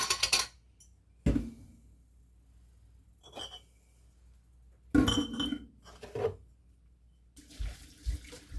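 Glass canning jars being washed at a sink for canning ground beef, with sharp clinks and knocks of glass, bursts of running tap water and quiet gaps between them, close by and without speech.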